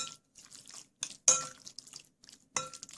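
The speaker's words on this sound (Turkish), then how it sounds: "Güzelce böyle karıştırıyorum" Marinated chicken stirred in a bowl with a spoon, with soft scattered clinks and wet scraping in short irregular bursts, close by and fairly quiet.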